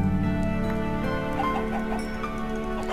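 Chickens clucking in Minecraft, with game music humming underneath as the blocky birds cluck repeatedly and fairly close throughout.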